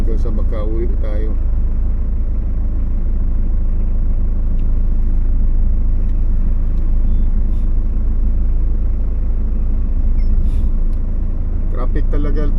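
Dense street traffic beside a busy public market, a steady rumble of cars and trucks close by with occasional horn-like blips and people talking over it.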